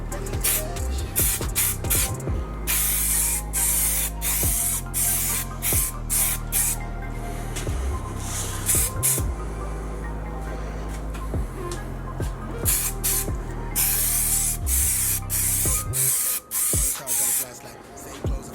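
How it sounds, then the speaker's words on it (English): Long, steady hiss of an aerosol can spraying primer in continuous bursts, with brief pauses, over a low mechanical hum. "We're going to spray our 2nd coat on that one, our 1st coat on this one."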